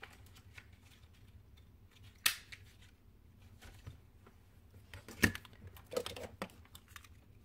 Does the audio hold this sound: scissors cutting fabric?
yes